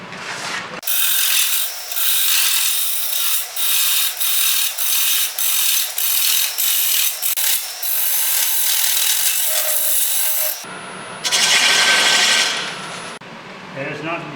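A hollowing tool scrapes against very dry wood spinning on a lathe while a vase is turned, a loud, close, continuous abrasive rasp pulsing in rhythmic strokes, with a brief harsher burst near the end.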